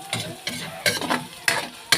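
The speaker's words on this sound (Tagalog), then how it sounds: "Magluluto si Lola ng pakbet." Pakbet, a Filipino vegetable stew, being stirred in a cooking pot, with repeated bursts of scraping and sizzling roughly every half second, close and fairly loud.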